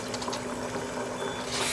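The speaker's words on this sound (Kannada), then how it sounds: "ಇವಾಗ ಒಂದು ಅರ್ಧ ಗ್ಲಾಸ್ ಆಗುವಷ್ಟು ನೀರು ಹಾಕೊಳ್ತಾ ಇದ್ದೇನೆ." Half a glass of water is poured into a pan of Mangalorean chicken ghee roast, a brief, fairly faint splashing flow without talk.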